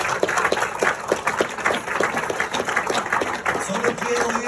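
A church congregation clapping in a steady, dense rhythm during a Sunday morning service, loud and close, with voices mixed in under the applause.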